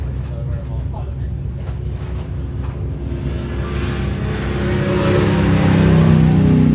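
A stock or comp race truck at the High Desert 100 in Powell, Wyoming, its engine noise swelling as it approaches and passes on the track, with voices talking throughout.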